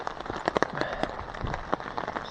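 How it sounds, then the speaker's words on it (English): Rain falls at a backwoods solo hammock camp in the Catskills in fall, with steady close pattering and scattered louder drops hitting surfaces nearby, and no speech. "still raining"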